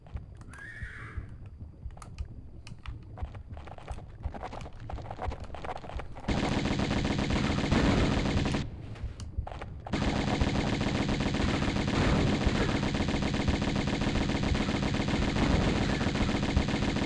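In Tomb Raider 1 Remastered, scattered shots crack at first, then rapid automatic gunfire rattles almost without pause, loud and close, broken by a brief lull before the firing resumes.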